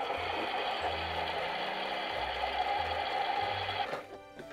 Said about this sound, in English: Now let's turn on the washer.